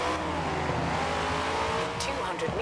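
A car accelerates in the racing video game Forza Horizon 4, its engine droning loud and steady with a rising rev and a brief tire squeal near the end, and a voice talks faintly underneath.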